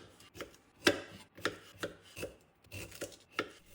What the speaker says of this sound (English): He started by peeling the ginger and cutting it into pieces that will fit through the chute